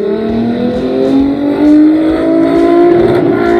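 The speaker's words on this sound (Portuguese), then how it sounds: "o Fusca de Kate, que estava em alta velocidade, bate com tudo na lateral deles" A Volkswagen Beetle speeds through a chase, its engine roaring loudly and close with a steadily climbing pitch as it accelerates, with no voices over it.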